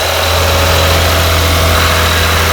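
A Toyota Camry 3.0L V6 idles steadily up close, its low, even hum running unchanged with no talk over it.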